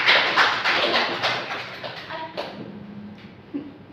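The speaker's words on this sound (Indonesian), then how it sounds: "Kita berikan tepuk tangan dulu untuk kalian." Students clapping together in a classroom, a dense burst of applause close by that thins out and fades over a few seconds, with faint voices under the tail.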